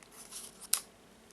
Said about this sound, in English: now I will take the scissors and put the scissors under these cords